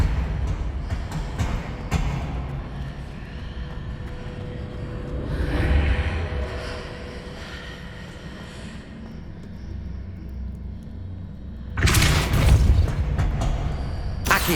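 A Depulso spell in Hogwarts Legacy pushes heavy stone blocks, giving a deep rumbling grind and boom midway and a louder burst of crashing impact near the end over a low ambient drone.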